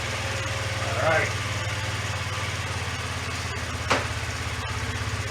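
A 1993 Yamaha Riva 125 scooter, also sold as the Beluga, idles steadily after its first start following a throttle cable replacement, a close, even engine drone with a brief throttle blip and a sharp clack.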